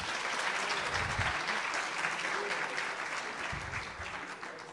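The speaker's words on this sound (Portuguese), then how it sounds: "uma salva de palmas, por favor" Audience applause at a lecture on neural networks, a steady wash of many hands clapping, moderately distant and fairly quiet, continuous and even without speech.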